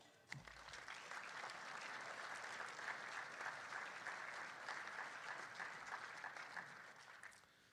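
A crowd applauds steadily at a hockey awards banquet, a dense wash of clapping that starts abruptly, holds for several seconds and fades at the end.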